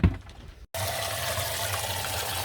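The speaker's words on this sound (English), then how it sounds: "Just flushing hot water through now into our wastewater container." Hot water flushes out of a camper van's tank into a wastewater container, a steady, continuous rushing stream that starts abruptly after a short pause and runs unbroken at an even level.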